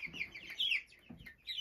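Cornish chicks in a warm house bedded with wood shavings give soft, high peeping chirps in short, irregular bursts, heard close but faint.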